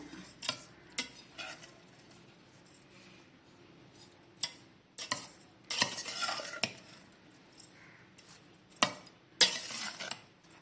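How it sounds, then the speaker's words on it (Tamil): Country sugar being stirred into beaten rice puttu in a wide bowl: a series of intermittent scraping and clinking spoon strokes, close and moderately loud, with quiet pauses between them. "இப்போ எடுத்து வச்ச நாட்டு சர்க்கரையை கலந்துட்டுடலாம்"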